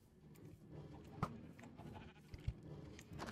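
Sheep bleat from an automatic sheep farm in the video game Minecraft: a few short bleats come through at moderate level over a busy game background with no talk.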